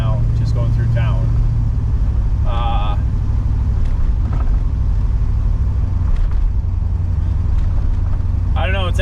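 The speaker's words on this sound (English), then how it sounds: "I'm only turning about 1600 RPM right now, just going through town" Pontiac Firebird engine idling along through town at about 1600 RPM, a steady low rumble throughout, with brief higher whining tones rising over it now and then.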